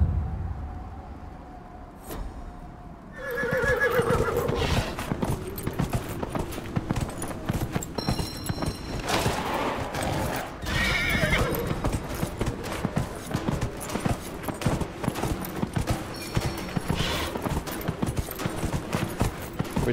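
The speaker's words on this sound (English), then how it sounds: "Shift to gallop." Rapid rhythmic hoofbeats of a horse galloping in the video game Dragon Age: Inquisition, steady and close over a soft musical background, with a brief whinny near the start.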